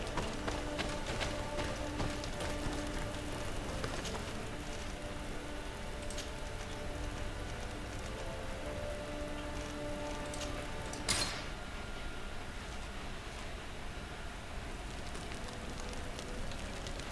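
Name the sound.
rain falling in the video game Greedfall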